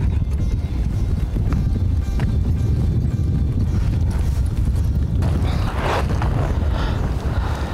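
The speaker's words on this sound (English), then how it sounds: "let's climb the horses up a mountain and see what happens" Horses climb a mountain slope on a hunting trip for Marco Polo sheep and ibex, hooves clopping and scraping over rough ground in a loud, busy, uneven rhythm with gear creaking.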